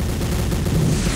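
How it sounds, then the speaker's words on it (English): Grenades going off in the World War II shooter Day of Defeat, a dense, continuous low rumble of overlapping blasts and gunfire that stays loud throughout with no clear gaps between them. "They're spamming grenades."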